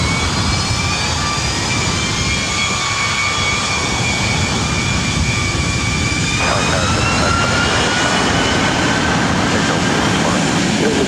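A jet airliner takes off from runway 24 right at LAX with a loud, continuous engine roar and a rising whine that shifts partway through. It is heard from the airport vicinity.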